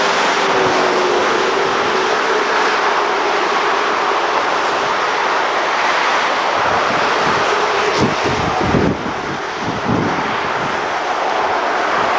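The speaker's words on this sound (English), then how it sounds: "I think those are Cobra helicopters." Military Cobra helicopters pass overhead in a 1996 outdoor recording, a steady broadband roar with heavy wind buffeting on the microphone throughout and low thumping near the end, with no talk.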